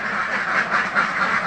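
Laying ducks on an intensive dry-cage duck farm quack in a dense, continuous chorus, loud and close with overlapping nasal calls and no break.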